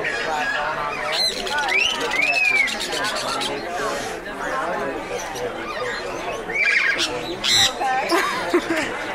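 Birds squawking and chirping at a bird expo in Lancaster, a busy indoor hall with repeated sharp calls over constant crowd chatter and talk.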